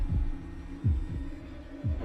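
Three slow, heavy heartbeat thumps pound at a steady rhythm, low and booming over a faint hum, close and loud with no voices.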